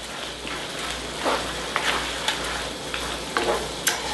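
Massaman curry with potatoes and peanuts sizzles and simmers in a wok, giving a steady close frying hiss with scattered soft pops and stirring clicks throughout, and no voices.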